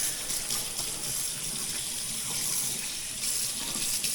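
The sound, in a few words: water running from sink tap while washing hands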